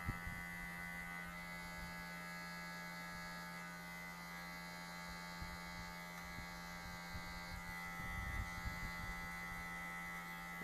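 Electric hair clippers running steadily while cutting hair for a drop fade, a close, constant buzzing hum with slight shifts as the blade moves through the hair.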